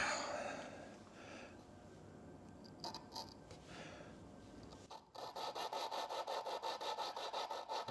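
A suction cup tool twists an engine valve back and forth against its seat with lapping compound, giving a coarse, gritty rubbing that turns steadier and more rhythmic midway, fairly close and moderate in level.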